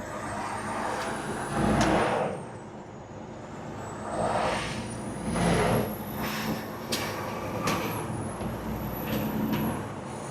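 Diesel truck engine at a diesel festival, revving and loading up in several surging pulses with air intake whoosh, a high whine rising and falling above it, fairly close and loud.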